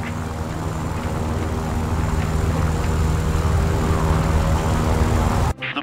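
A propeller plane in War Thunder powers up its engine for takeoff, a loud steady drone with a layered harmonic hum that holds for several seconds before cutting off abruptly near the end.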